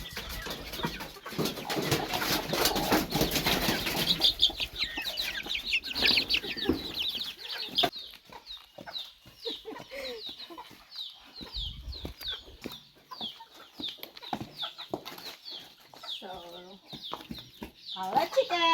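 A native chicken clucks repeatedly in short, close bursts, with louder voice and handling noise in the first seconds before the clucks continue alone.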